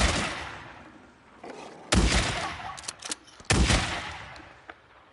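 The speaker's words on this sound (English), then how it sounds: "the shotgun is for close distance only. So sometimes when I do fire, I miss." Shotgun blasts in the video game Days Gone, two loud sharp reports about a second and a half apart with decaying echoes and a few smaller knocks between, with no talk.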